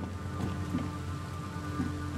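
Steady rain pours down without a break in the flooded streets of The Sinking City, a dense, even hiss with a soft low rumble underneath and no talking.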